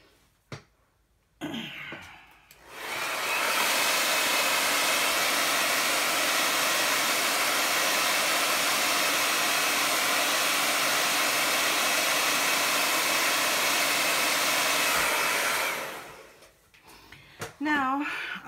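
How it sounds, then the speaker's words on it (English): A hair dryer switches on and blows steadily for about thirteen seconds, a loud whooshing roar, then shuts off amid brief handling noises. "Blow dry time."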